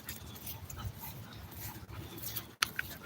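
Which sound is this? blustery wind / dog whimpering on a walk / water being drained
dog whimpering on a walk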